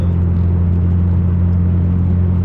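Steady, loud low drone of a Nissan GT-R R35 cruising on the highway at about 50, a continuous engine hum with road rumble and no talking.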